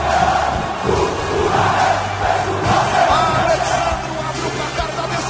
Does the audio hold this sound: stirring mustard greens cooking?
no